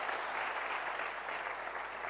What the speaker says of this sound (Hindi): एक बार जोर से अपने लिए तालियां तो जरूर बजा दीजिए